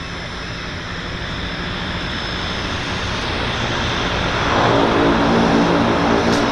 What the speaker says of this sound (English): This aircraft just landed actually.